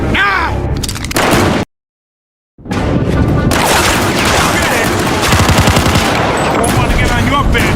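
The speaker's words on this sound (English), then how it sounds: "Vito, let's shoot this cocksucker." Rapid, loud gunfire from Mafia II cracks in dense bursts, broken by one brief moment of total silence, with voices shouting among the shots.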